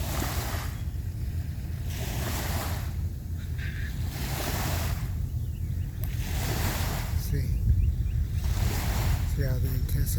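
Ocean surf rolls in repeated surges roughly every two seconds, each wave washing loud and broadband, the crashing swelling stronger toward the end with light wind noise on the microphone.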